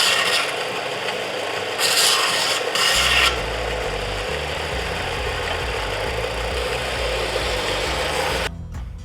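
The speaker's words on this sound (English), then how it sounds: "And of course you gotta sand it." Wood is sanded by hand while building a bread cooling rack. Steady, loud rasping scrapes continue throughout over a low background hum, with a few brighter, harsher strokes early on.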